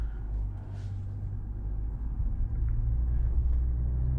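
A 2021 Chevrolet Silverado 1500 RST diesel pickup with a rear locker climbs off-road, its engine a low continuous rumble that swells slightly as the tires slip, no talk.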